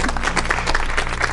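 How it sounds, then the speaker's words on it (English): Studio audience applause for a contestant on a game show: a dense, steady patter of many hands clapping at once, fairly close and sustained with no break. "Applause for him."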